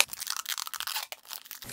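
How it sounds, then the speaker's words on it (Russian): Adhesive tape pulled and wrapped around a bouquet of lemons and ginger, giving close crinkly tearing and crackling bursts in quick irregular succession. "беру скотч и креплю все скотчем"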